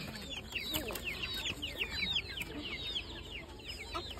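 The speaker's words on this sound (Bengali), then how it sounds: "বুনু মুরগি দেখাতো, কতগুলো মুরগি আছে?" Chickens on a farm cluck and chatter continuously, several birds close by making quick overlapping calls, with faint background movement and no clear speech.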